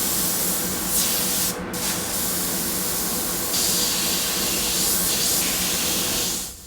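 Airbrush spraying heavily reduced lemon yellow paint over a skull design for freehand flames, a loud continuous close hiss with brief pauses and shifts in intensity.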